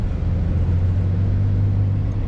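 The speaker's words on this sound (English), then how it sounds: "Today we'll make a test drive for Ferrari Roma 2021" A 2021 Ferrari Roma drives at night through the City Walk area of Dubai, its engine a steady, close, low hum that holds level throughout with no voices over it.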